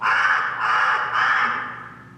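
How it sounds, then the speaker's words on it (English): A loud, harsh bird squawk used as a stage sound effect in a theatre play, repeated in three close, raspy bursts that fade at the end. "He squawks at her."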